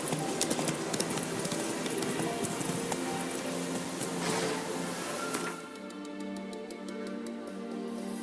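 Roach, a horse in The Witcher video game, gallops with a steady, close clip-clop of hooves over a busy game soundscape that thins out near the end; no one talks.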